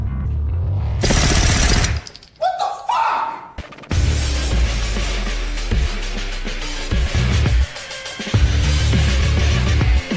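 An action film scene features gunfire from two shooters firing wildly at enemies. There are loud bursts of rapid automatic fire and sharp impacts, broken by brief pauses and a crash. The shooting is close and heavy throughout.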